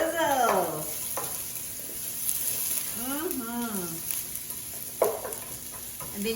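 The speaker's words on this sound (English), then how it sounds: "Listen to the sizzle." Chopped onion and three garlic cloves hit a pan of oil over medium heat, giving a steady close sizzle with occasional stirring scrapes and a few clinks, mostly alone without talk.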